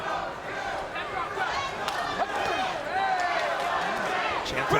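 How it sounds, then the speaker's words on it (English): A Fort Lauderdale bare-knuckle fight crowd roars and chants during a BKFC bout, a loud, dense wash of voices with rising shouts and whoops, and a commentator's voice cutting through the noise. "Chant of "Let's go Jim" again from this Fort Lauderdale crowd."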